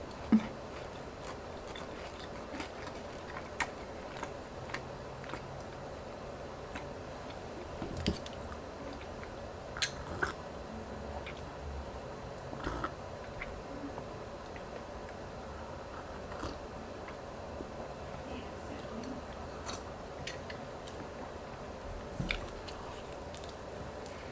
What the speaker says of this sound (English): It's getting tough down here to chew.